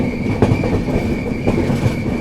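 Yesvantpur-Gorakhpur Express train running on rails, a loud, close rumble with rhythmic clatter and a faint high squeal from the wheels, no talk.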